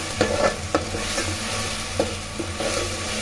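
Onions and garlic sauté in a pan for a fish curry, with a steady soft sizzle broken by a few sharp scrapes of a spoon stirring them, close and moderately loud, with no voices.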